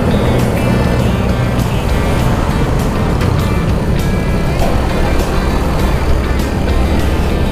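A motorcycle ridden in the rain gives a steady, close engine and road roar mixed with wind rush. It runs without a break, with no talk over it.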